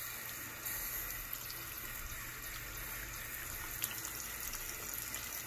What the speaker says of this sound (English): When you rinse your hands, you're gonna do one hand at a time. Make sure you rinse from top to bottom.